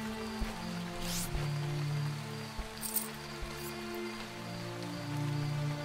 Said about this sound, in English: Damn innocuous sounding rain.